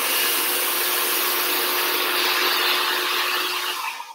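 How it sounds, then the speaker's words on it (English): A handheld blow dryer fitted with a nozzle runs steadily while styling hair, a loud close broadband whoosh with a faint motor whine that cuts off at the end, with no talking over it. "Blow dryer with a nozzle, such an easy tool."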